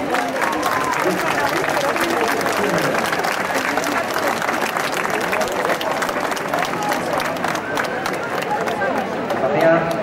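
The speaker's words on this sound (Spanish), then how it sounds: "Un fuerte aplauso para estos dos" Sustained applause from a large audience at a solemn flag-raising ceremony in Zaragoza, dense and even for the whole stretch, with crowd voices mixed underneath.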